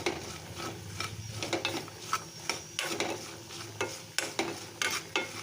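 Cashews and pepper fry in a pan while being stirred, a steady sizzle broken by repeated scraping and clacking strokes of the spoon, close and moderately loud with no talk.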